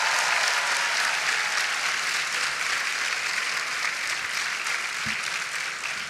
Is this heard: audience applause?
yes